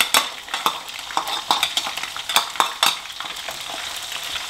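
Minced garlic fries in hot oil for a steady, crackling sizzle, with sharp scraping clicks of a spatula stirring against the pan at an irregular rhythm, close and moderately loud with no voices.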